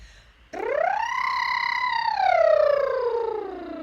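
Several voices sing a smooth siren-like glide together, rising and then sweeping slowly downward in one sustained, fairly loud tone, imitating a siren.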